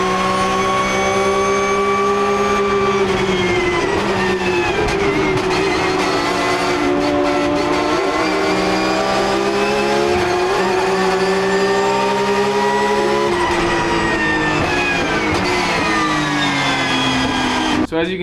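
An Audi RS3 TCR race car revs hard on track with a loud, continuous engine drone that rises and falls through the gears, close and dominant throughout.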